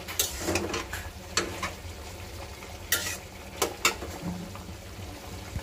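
Koi fish (climbing perch) fries in a pan with a steady low sizzle, broken by a handful of sharp clinks and scrapes from a utensil against the pan.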